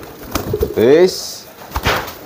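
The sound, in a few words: old breeding racing pigeon cooing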